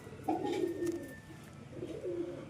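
A female pigeon, newly bought at a market, coos twice in low, throaty rolling phrases, clear and close, with a short pause between them and no talking.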